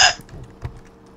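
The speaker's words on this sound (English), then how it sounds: "Those are my hiccups, shut up." A single sharp, squeaky hiccup from a person at the start, followed by a fainter throaty catch and quiet room noise.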